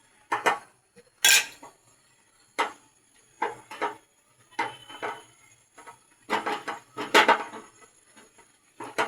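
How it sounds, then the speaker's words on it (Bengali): Vegetables for Chinese vegetable fried rice are stirred in a pan, giving a string of close, irregular metallic clinks and scrapes of the spoon against the pan, separated by brief quiet gaps, with no speech. "এভাবে নেড়ে দিব।"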